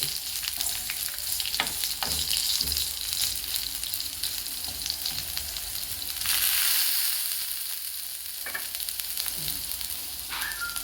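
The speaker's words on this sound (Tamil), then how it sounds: "பாவக்காய் நல்லா வதக்கணும் எண்ணெயில் போட்டு" Bitter gourd frying in oil in a pan for a tamarind gojju, a steady close sizzle with occasional stirring scrapes and a louder hiss swell midway, with no speech.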